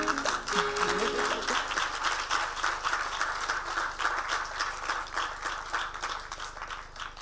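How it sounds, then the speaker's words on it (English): An audience applauds at a UN Nairobi project inauguration and groundbreaking ceremony with President Ruto, a crowd's continuous clapping held evenly for several seconds, fairly distant, with a brief tone at the start. "Another round of applause."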